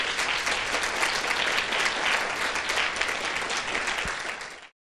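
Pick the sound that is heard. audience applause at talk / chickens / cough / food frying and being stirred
audience applause at talk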